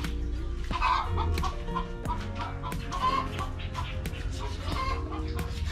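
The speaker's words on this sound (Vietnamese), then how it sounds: "Có một con gà đá, gà này để đập mái." Chickens cluck repeatedly nearby on a rural Vietnamese farm where a fighting rooster is kept, a busy series of short clucks and squawks over faint background noise.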